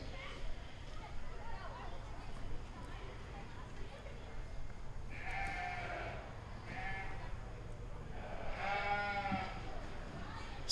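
Market lambs bleat at a 4-H sheep and goat livestock show, two or three distinct wavering calls from a short distance over a steady barn murmur and background chatter.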